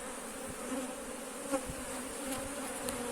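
Honey bees buzz around an opened hive during a queenless on-site split, a dense, faint, continuous drone with individual bees passing close now and then, no voices.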